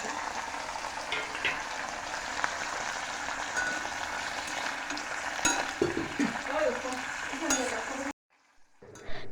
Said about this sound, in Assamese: ইয়াতে অকণমান তেল দি ইয়াতে পনীৰটো ভাজি লৈছোঁ